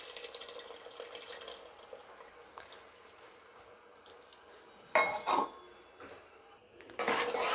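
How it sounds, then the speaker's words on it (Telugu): Soaked tamarind water poured into a cooking pot, heard as a couple of short, faint splashing bursts against a quiet kitchen background. "ఇప్పుడు మనం దీంట్లో కొద్దిగా చింతపండు నానబెట్టిన వాటర్ కూడా యాడ్ చేసుకుని వెళ్దాం"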